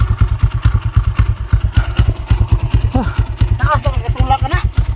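A motorcycle engine runs right after being refuelled with gasoline, idling close by with a fast, steady, loping thump-thump pulse. Voices of people talking overlap near the end.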